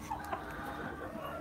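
Chickens cluck and murmur near and far on a farm at sunrise, with a rooster among them adding faint crow-like calls over a steady, busy background of fowl.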